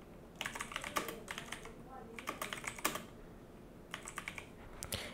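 Quick bursts of typing on a computer keyboard, close and fairly quiet, with short pauses between clusters of keystrokes while a web form is filled in.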